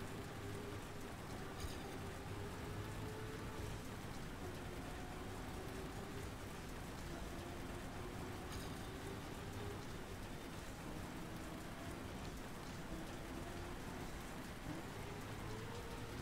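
Steady rain in the racing game Trackmania, a constant dense hiss of falling drops on the track, with low rumbling engine tones running beneath throughout.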